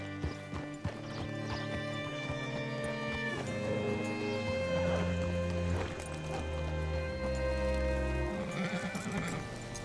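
In Red Dead Redemption 2, a horse whinnies loudly and its hooves clip-clop as it moves, the neigh rising and falling across several seconds with game music underneath.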